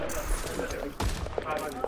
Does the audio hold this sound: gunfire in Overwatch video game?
yes